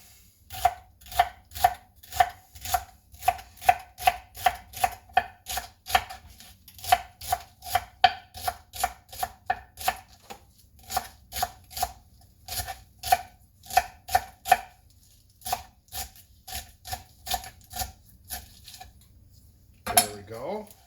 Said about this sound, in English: I've got my celery already here ready, so I'm just going to go ahead and cut that up